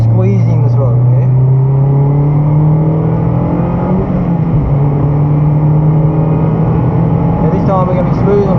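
A race car on the Broadford track holds a steady, loud engine drone as the throttle is squeezed, the pitch rising slowly and dipping briefly near the middle, with a voice talking over it throughout.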